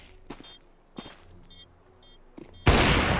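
Gunfire in a competitive Counter-Strike esports playoff match, with rifle and sniper shots on a bombsite: a few scattered sharp shots, then a loud sustained burst of fire at the end.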